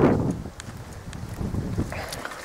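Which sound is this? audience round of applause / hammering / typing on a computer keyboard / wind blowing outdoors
wind blowing outdoors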